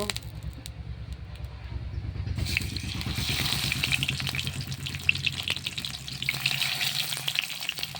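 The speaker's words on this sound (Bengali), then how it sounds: "এখন মাছটা হালকা করে একটু ভেজে নেব।" Chital fish frying lightly in hot oil in a kadai, heard as a steady, close sizzle that grows brighter and crackles after a couple of seconds and then continues evenly throughout.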